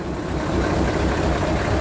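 Steady broadband rain falling across a dump truck yard, a dense continuous hiss and patter with a low rumble underneath, even and unbroken throughout.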